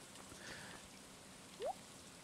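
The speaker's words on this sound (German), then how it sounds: "Es regnet noch" Steady soft rain falling in the Stardew Valley video game, a continuous faint patter of drops with one brief brighter blip partway through, no talking.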